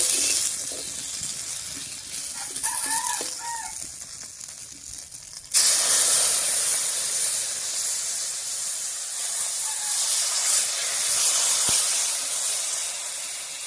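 Chili paste and water hitting a hot pan with sliced potatoes, a soft sizzle that jumps to a loud rushing hiss of steam and then keeps bubbling and spitting steadily.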